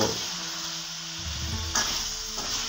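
Boiled mixed vegetables are stirred in a hot pan, giving a steady sizzle with a few short scraping stirs partway through, close and alone without talk.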